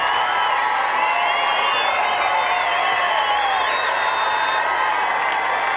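Crowd in the stands at a Dover versus Canton South high school football game in 2008, a steady loud murmur with scattered cheers and whoops throughout.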